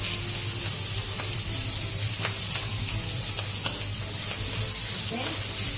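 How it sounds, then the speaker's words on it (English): Fried rice pressed flat with the back of a spatula in a hot pan, giving a steady close sizzle with faint scraping taps throughout. "Use the back of the spatula to press it."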